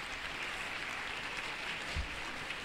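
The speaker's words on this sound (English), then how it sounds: "Let's give them a round of applause." Audience applause at an Independence Day awards ceremony, a steady, fairly faint wash of many hands clapping at a distance, continuous for the whole stretch with no one speaking.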